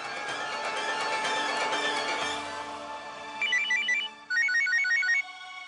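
A telephone rings with a steady electronic tone, then a repeating melodic ringtone pattern plays in two bursts, fairly close and clear, with no talking over it.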